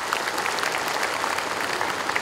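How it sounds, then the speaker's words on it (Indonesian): Steady, dense applause from a crowd at an Indonesian government ceremony where new civil servant candidates receive their appointment letters, even and sustained throughout with no voices on top. "tepuk tangan untuk kita semuanya"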